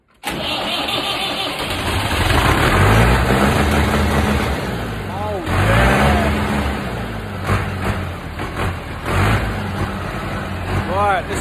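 An engine turns over and fires up after a key turn, then revs in rising surges with strong low rumble, loud and close, with someone talking over it now and then.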